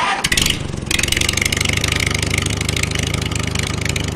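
A tractor engine starts and settles into a steady, loud, close chugging idle with an even rapid rhythm.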